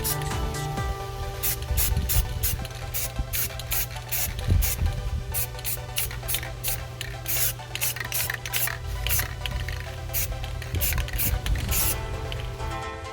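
Aerosol spray paint applied to the back side of a C3 Corvette steering rod: repeated short hissing spurts in a quick irregular rhythm, close and fairly loud over a low steady hum.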